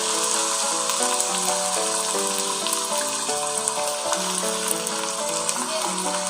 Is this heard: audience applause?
no